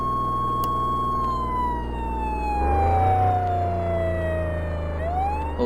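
A siren wails in a slow falling-then-rising sweep, loud and close, over a heavy vehicle engine rumble that swells midway, with no speech.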